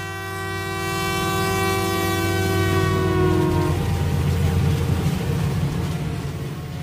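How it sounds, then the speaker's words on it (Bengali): A train sounding a long, loud horn blast that holds for several seconds and then cuts off, leaving the rumble and clatter of the moving train's wagons on the rails, with no talking. "সপ্তাহ দুয়েকের মধ্যেই ঝিমলিকে নিয়ে লখনৌয়ের ট্রেনে উঠে বসল রৌনক।"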